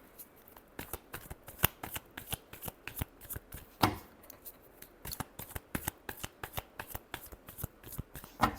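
Playing cards shuffled repeatedly at close range for a tarot-style reading, producing dense rapid riffling bursts in a steady rhythm with a few louder snaps.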